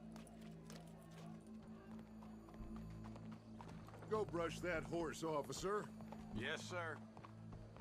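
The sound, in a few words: horse hooves clip-clopping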